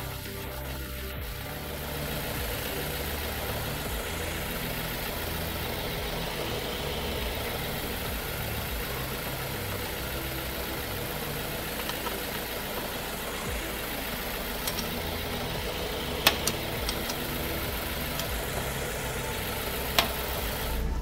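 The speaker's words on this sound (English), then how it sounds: "Now that the engine is running" A car engine idles steadily and evenly at close range while transmission oil is topped up on a ZF 6HP19 automatic gearbox, with a few faint metallic clicks late on.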